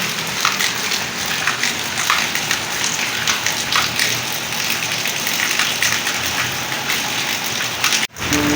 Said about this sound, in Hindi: बुरे वाला में बारिश हो रही है